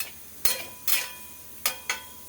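A utensil stirs food in a cooking pot, making four short, sharp metallic scrapes and clinks spaced apart over a quiet background.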